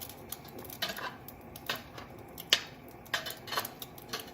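Light scraping and clinking of a utensil against a pan as a ramen egg foo young omelet is flipped, a few close, sparse taps and knocks scattered across a quiet background.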